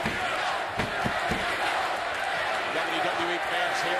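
A large wrestling crowd at the O2 arena in London roars steadily throughout, a dense, continuous wash of cheering with a few sharp thuds and slaps breaking through.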